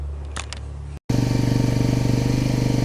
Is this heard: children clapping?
no